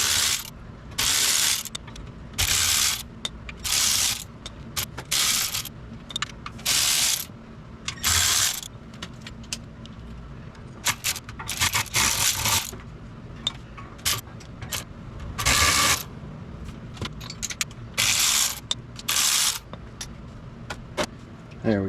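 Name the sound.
undoing bolts on Jeep Commander rear differential cover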